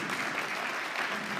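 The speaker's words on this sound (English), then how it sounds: "If you guys will join me in giving these guys a round of applause." An audience at a live emergency summit applauds, a steady, dense wash of clapping that holds at an even level throughout the short stretch.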